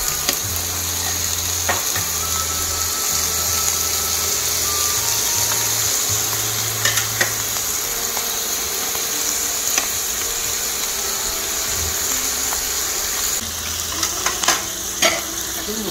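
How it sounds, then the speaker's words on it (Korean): Abalone fries in butter in a pan next to beef and mushrooms, holding a constant close sizzle with scattered clicks and utensil taps and a low hum underneath, with no speech. "전복을 버터에 볶고 있습니다."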